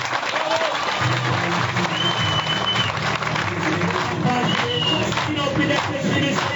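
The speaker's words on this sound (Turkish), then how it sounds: "Sayın Vekilimizi, Belediye Başkanımızı bir kez daha alkışlıyoruz" Sustained applause from a crowd at an outdoor campaign rally in Gerze, Sinop, for an AK Party MP and the mayor, steady and dense throughout with some voices mixed in.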